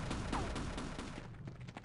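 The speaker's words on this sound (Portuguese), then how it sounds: "pode ficar atirando quanto quiser, querida" Rapid gunfire in the video game Half-Life, a dense, continuous burst of shots under heavy combat noise, loud and sustained with no talk.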